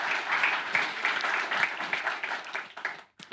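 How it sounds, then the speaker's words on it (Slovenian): An audience at a business presentation on digital transactions and e-signatures gives a short burst of clapping. The claps come through fairly clearly at moderate volume and fade with a brief gap near the end. "en aplavz"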